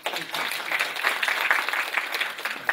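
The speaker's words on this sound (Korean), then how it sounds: "다시 한번 박수로 맞이." An audience at a higher-education forum claps to welcome a speaker to the stage, a moderate, even round of applause sustained throughout.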